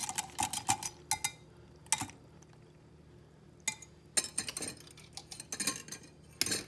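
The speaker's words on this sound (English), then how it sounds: "we start by adding the egg to the buttermilk, and we want to whisk that together" An egg is whisked into buttermilk in a bowl with quick bursts of clinking metal-on-bowl strokes, close and fairly quiet, separated by brief pauses.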